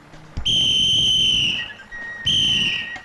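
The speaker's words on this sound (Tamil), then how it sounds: "யார பார்த்து விசில் அடிக்க தெரியாதுன்னு சொன்னேன். இப்ப அடிக்கிறேன் பார்." A whistle blown by mouth gives two loud, shrill blasts, the first long and the second shorter after a brief pause, close and clear with no talking.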